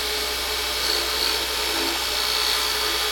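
A tool shaping a wooden pen blank on a lathe, giving a steady whirring hum with a continuous rubbing, scraping texture close by and no talking.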